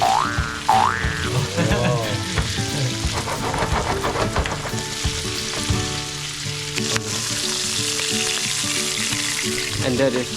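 Crab fries in a pan of butter and garlic with a loud, continuous crackling sizzle close by, plus occasional knocks and shifting as pieces are handled.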